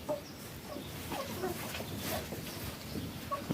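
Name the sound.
new rooster and hens in the compound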